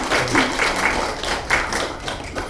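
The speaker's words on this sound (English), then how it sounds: "Yes, you may applaud." Audience clapping in a church service after a young woman's song, a short burst of scattered, fairly close claps with uneven rhythm.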